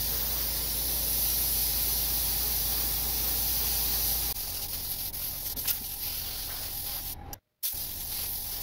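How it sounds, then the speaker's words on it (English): Spray paint hisses through a window screen held at a 45-degree angle, laying pearl white scales onto a wooden segmented bluegill fishing lure; a loud continuous hiss first, then softer uneven bursts and a brief cutout near the end. "I had a bit of a mishap when I was painting the scales. I oversprayed it in one spot."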